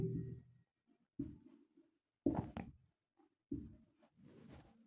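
Words are written on a board, with four or five distinct scratchy strokes in short bursts separated by silences, close and fairly quiet.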